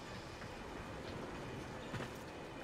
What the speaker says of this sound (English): Activate tram.